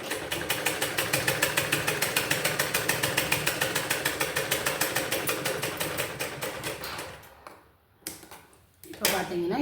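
Sewing machine stitching blouse fabric, a fast even mechanical chatter running steadily for several seconds up close before it stops, followed by a couple of brief handling noises.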